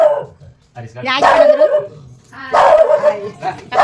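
A dog barks and yips in a couple of short, close bursts, with people talking around it.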